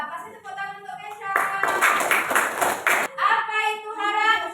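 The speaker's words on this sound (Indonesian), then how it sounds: "Kasih tepuk tangan untuk Kesha." Children in a classroom clap their hands in a burst of dense applause lasting about two seconds, with a teacher's voice speaking before and after it.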